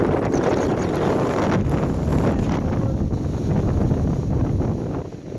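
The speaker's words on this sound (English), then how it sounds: "See what happens when I turn my face to the wind." Heavy wind on the Appalachian Trail near Massie Gap rumbles straight into the microphone, a loud, steady roaring buffet that barely eases for the whole stretch.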